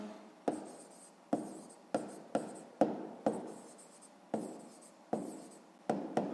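Pen strokes on paper as numbers are written by hand, a series of sharp scratchy bursts, about a dozen, each fading quickly, close and alone with no talk.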